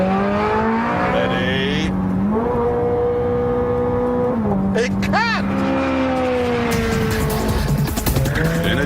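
A Ferrari F430 Scuderia revs hard through rapid computerized gear changes, with each rising howl cutting off sharply before climbing again. The engine is loud and close, and someone speaks briefly over it.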